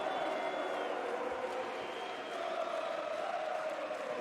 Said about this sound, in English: Just going to let the crowd do the talking for a moment.